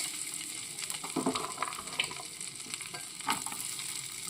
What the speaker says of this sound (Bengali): বাটারটা মেল্ট করে নিয়ে এর মধ্যে আমি পেঁয়াজ ক্যাপসিকাম একটু ভেজে নেব হালকাভাবে প্রথমে দিয়ে দিলাম পেঁয়াজ